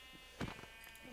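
Sheep bleat once in the Minecraft video game, a short nasal call standing out against a steady electronic hum, with a faint second bleat trailing after it.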